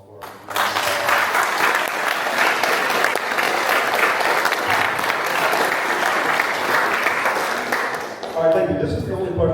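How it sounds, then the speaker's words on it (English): A large audience at a congressional district debate held at the University of Kentucky applauds steadily, a dense, sustained wash of clapping lasting about eight seconds before fading out, followed by faint voices. "Could we have a round of applause for"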